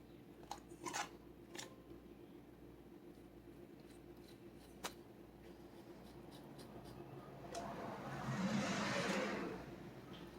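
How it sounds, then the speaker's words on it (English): A vehicle passes along a residential street, its faint rumble swelling and fading, amid scattered clicks and handling noises close by in a quiet indoor space. "As you can hear, our street is getting more and more traffic every day."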